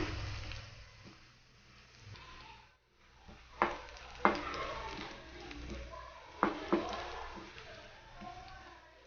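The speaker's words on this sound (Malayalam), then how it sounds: "ഇതിലേക്ക് നമുക്ക് തേങ്ങ ഇട്ടെടുക്കാം. ഇത് നന്നായിട്ട് ഫ്രൈ ആക്കിയിട്ട് എടുക്കണം." Grated coconut frying in ghee in a pan for an unniyappam sweet, a soft steady sizzle with a few sharp scrapes and taps of stirring, close and fairly quiet, with faint talk underneath.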